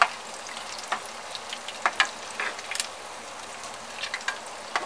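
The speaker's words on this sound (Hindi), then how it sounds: "मीडियम फ्लेम पे इसे दोनों तरफ से गोल्डन ब्राउन होने तक फ्राई कर लूंगी" Mutton chops frying in oil in a kadai over a medium flame, a soft steady sizzle with scattered small pops and crackles, fairly quiet and close.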